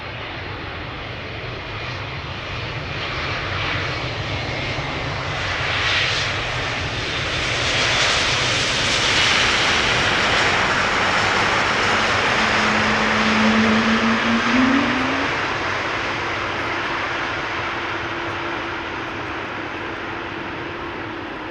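DHL Airbus A300-600 cargo jet arriving at Amsterdam Schiphol, its engine roar building from a distance to a loud, broad rush as it passes, then fading into a lingering whine.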